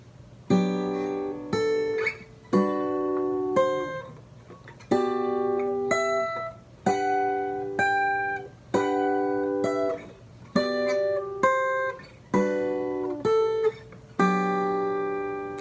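A guitar plays a chord melody in drop 2 voicings, with the melody on the top string: sustained multi-note chords struck one after another at an unhurried pace, each ringing out before the next, with no voices.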